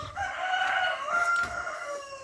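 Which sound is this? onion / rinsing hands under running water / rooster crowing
rooster crowing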